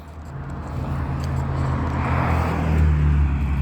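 A car engine grows steadily louder as a vehicle approaches and rolls past nearby, its low rumble swelling toward the end.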